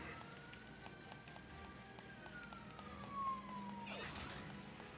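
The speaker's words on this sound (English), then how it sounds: "Oh, I hear police sirens outside." Police car sirens wailing outside, a faint distant tone gliding slowly downward over a quiet indoor background, with a brief louder burst of noise near the end.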